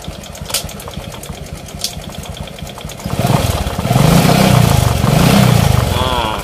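A motorcycle engine idles unevenly during axle gear repair, then the throttle opens and it revs up loudly and holds a strained, steady roar close by.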